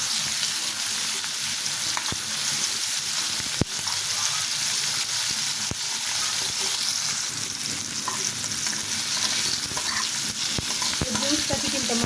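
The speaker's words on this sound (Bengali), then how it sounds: "এই উস্তাটা আমি এখানে উল্টিয়ে নিচ্ছি এক এক করে" Bitter gourd slices sizzle steadily as they fry in a pan and are flipped one by one, with soft scraping and stirring clicks over a continuous hiss and no talking.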